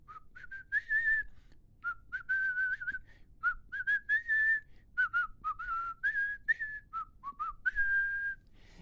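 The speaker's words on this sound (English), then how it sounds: "That's me whistling." A person whistles the quick, bouncy Indiana Jones theme, sped up so the notes sound high and chirpy, almost birdlike, with short phrases and brief pauses.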